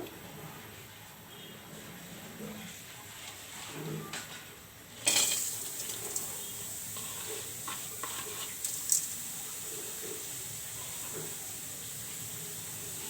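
Onions and green chilies drop into a hot kadai (wok) on a stove and burst into a bright, steady sizzle after a few quiet seconds, with light stirring scrapes over the hiss.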